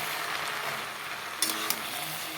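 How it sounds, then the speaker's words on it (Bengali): Fried vegetables being sautéed with spices in a pan for a mixed vegetarian soybean dish, giving a steady close sizzle with a couple of brief stirring clinks near the end and no talk. "এখন মশলার সাথে সবজিগুলোকে ভালো করে কষিয়ে নেব"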